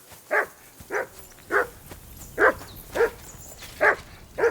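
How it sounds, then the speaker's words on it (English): A dog in Kingdom Come Deliverance 2 barks in seven evenly spaced, fairly loud single barks, each one sharp and separate, with no talking in between. "That barking was a pain."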